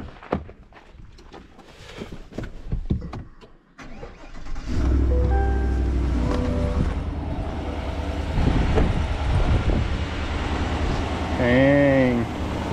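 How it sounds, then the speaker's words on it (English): A 2022 GMC Sierra pickup truck sits quiet under some faint sounds, then its engine cranks and starts about a third of the way in and settles into a steady, fairly loud idle to the end. "let's go turn the truck on here and light them up"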